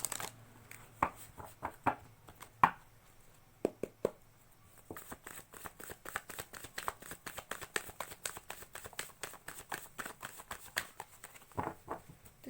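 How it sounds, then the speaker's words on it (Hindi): Tarot cards being shuffled by hand, a quiet run of crisp riffles and soft flicking slaps in irregular bursts, close and alone with no talk. "जब तक मैं शफलिंग कर रही हूँ"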